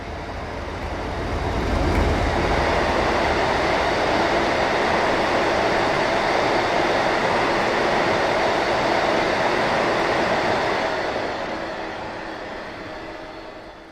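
A British Rail Class 58 diesel locomotive, 58022, hauls a departmental freight train, its engine and wagons building to a loud, steady rumble that holds for several seconds before slowly fading.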